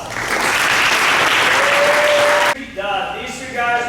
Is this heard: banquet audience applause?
yes